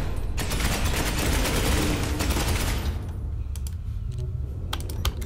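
Rapid automatic gunfire from Space Hulk: Ascension rattles in a dense burst for about three seconds, then breaks into a few scattered, sharp single shots over a quieter background.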